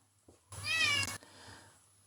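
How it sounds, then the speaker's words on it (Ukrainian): A single loud, drawn-out meow from a cat trying to get into a room, rising and wavering for about a second, close by, with faint shuffling before and after in a quiet indoor space. "шалений кіт ломиться до кімнати"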